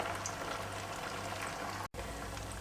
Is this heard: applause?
no